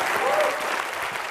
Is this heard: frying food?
no